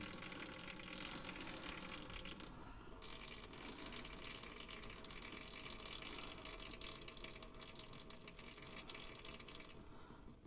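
Fluid draining from underneath a Polaris Ranger 570 SP Premium with about 1,500 miles on it during maintenance, a continuous soft splashing trickle like running water, steady throughout and heard up close.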